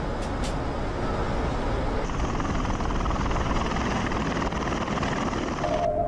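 V-22 Osprey military tiltrotor aircraft, part helicopter and part plane, flying to Al Asad airbase in Iraq, giving a loud, steady roar of rotor and engine noise throughout, with a higher whine joining partway through.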